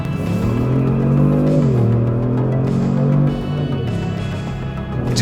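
Engine sound inside the cabin of a 2018 Kia Stinger GT on serious tires, a loud, rich harmonic growl that rises, dips and climbs again as revs change, heard continuously with no talking.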